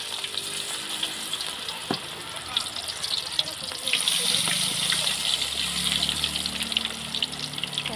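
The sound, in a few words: cauliflower pakoda frying in hot oil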